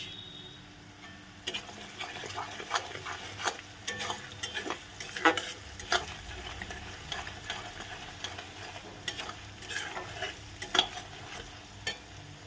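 Onions fry with spices and Kashmiri chilli in a pan, giving a soft steady sizzle with repeated scraping stirs and light utensil clicks, close and fairly quiet, with no talking.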